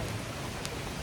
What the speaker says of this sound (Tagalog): Live update lang, umuulan.